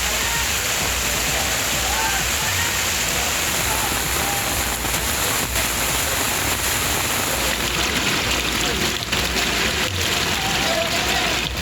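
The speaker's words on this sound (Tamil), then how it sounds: "கனமழையால் கோயில் மாட வீதிகள், லட்டு கவுண்டர் செல்லும் வழி உள்ளிட்ட அனைத்து இடங்களிலும் வெள்ளம் பெருக்கெடுத்தோடியது." Floodwater from heavy rain rushes through temple streets in a steady, loud, unbroken roar of churning water with no pauses.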